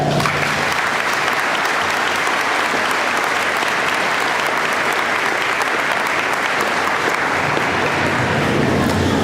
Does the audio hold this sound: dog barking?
no